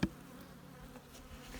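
Honeybees buzz faintly around an opened hive in February, the low hum steady, with a brief thump at the start and no talking.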